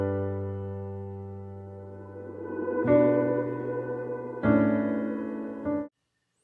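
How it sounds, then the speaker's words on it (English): A reversed guitar sample from Splice plays sustained, harmonically rich chords that swell up and then stop abruptly. Three layered phrases build in loudness before cutting off to silence. "I took this kind of reverse guitar from Splice"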